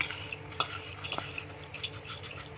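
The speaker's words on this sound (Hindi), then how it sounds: "ये देखिए एकदम क्रिस्पी गार्लिक जो है हमारे रेडी है इसकी आवाज़ सुनिए" Dry, crisp scraping and light clinking as crispy fried garlic is stirred in a pan, in short uneven bursts.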